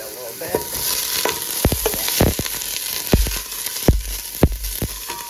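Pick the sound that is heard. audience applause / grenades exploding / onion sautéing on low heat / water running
onion sautéing on low heat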